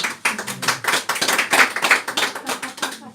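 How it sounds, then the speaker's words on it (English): A small audience at a live card magic show claps in a sparse, uneven burst, with individual hand claps distinct and close rather than a dense roar. "Don't applaud her, she's had enough already."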